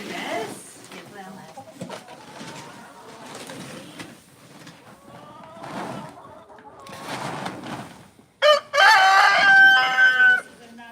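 Hens cluck and chatter nearby over a steady background, then a loud rooster crow rings out near the end, close and drawn out.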